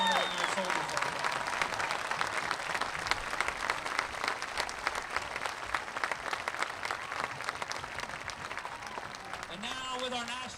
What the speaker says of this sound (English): let's give them a big round of applause for honoring our soldiers like that